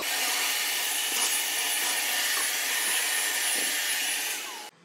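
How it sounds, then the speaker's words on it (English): A vacuum cleaner roars steadily while cleaning the top of the recoater on an HP 5200 series 3D printer, a loud constant hiss that cuts off abruptly near the end. "Be sure to pull this out and vacuum the top of it"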